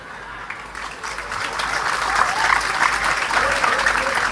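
Clapping from an audience at a religious sermon swells into steady, dense applause, loud and continuous for about four seconds with no talk over it.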